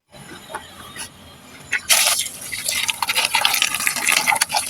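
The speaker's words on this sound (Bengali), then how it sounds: "মাছ ধুচ্ছি" Fish are washed with water, starting with faint splashes and then a loud rushing pour with rubbing and sloshing, close and continuous.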